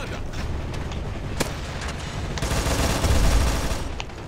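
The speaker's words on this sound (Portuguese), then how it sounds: "Jogando granada." Grenade blast and gunfire in the video game CrossFire X: a sharp crack early on, then a dense, rumbling burst of explosion and shooting swelling in the second half, loud and close with no talk.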